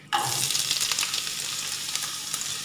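Onion hitting hot oil in a pan bursts into a loud, sudden sizzle that settles into a steady, crackling fry with faint stirring, no voices over it.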